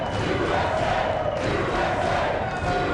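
A partisan indoor crowd at the 2015 Mosconi Cup pool match cheers and shouts loudly after a key shot, a thick sustained roar that holds steady for the whole stretch.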